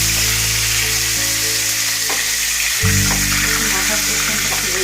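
Parshe fish fry in hot oil in a pan with a loud, steady sizzle throughout, with a brief stirring clatter midway.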